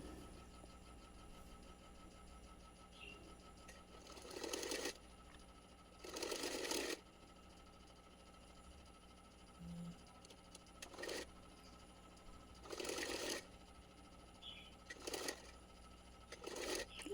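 A sewing machine stitches the fabric edges of a small doll dhoti in several short bursts of rapid whirring, spaced a few seconds apart over a low steady background hum.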